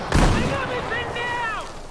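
A CSLR-4 sniper rifle in Battlefield 4 fires a single sharp, booming shot near the start, and its echo fades under tonal game sounds and faint voices.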